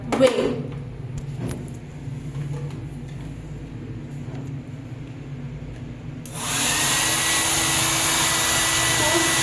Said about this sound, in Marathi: इथे हेअर ड्रायर आहे